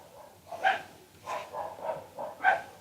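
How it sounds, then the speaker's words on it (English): Dogs next door bark in a loose run of about six short yips and barks over roughly three seconds, moderately distant and clear against a quiet room. "Forgive the noise in the background. There are some wild dogs next door."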